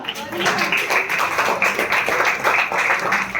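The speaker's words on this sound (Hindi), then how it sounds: "एक बार जोरदार तालियां।" An audience claps after a stage skit about Meera Bai. Brisk, fairly close clapping comes in uneven bursts over a few seconds, with a voice speaking through it.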